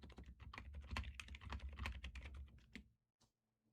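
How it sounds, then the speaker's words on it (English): Rapid, close keystrokes clatter on a computer keyboard for nearly three seconds, then stop abruptly, leaving near silence with one faint tap. "like the typing ASMR."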